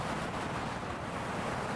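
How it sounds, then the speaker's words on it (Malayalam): Strong cold wind gusting along the salt-crusted Djibouti shore, a dense continuous roar that may be mixed with surf, steady and loud, with no voices. "അതിശക്തമായ കാറ്റ്"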